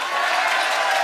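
A short burst of group clapping and light crowd noise at a classroom-style gathering celebrating a sibling's job selection, fairly close and steady for about a second.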